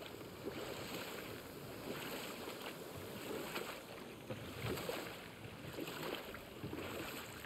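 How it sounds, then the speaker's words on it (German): A boat glides through water in God of War, with continuous sloshing and lapping water, soft splashes and a faint wind hiss, steady and moderately close with no talk. "Immer schön durch dem Wasser geflutscht."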